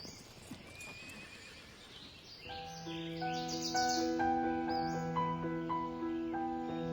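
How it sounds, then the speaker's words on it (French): Horse hooves clip-clopping with a neigh, followed by a steady rise of melodic music tones that layer over it and carry to the end. "Galoper à cheval sur une route droite et dure au claquement des sabots ferrés."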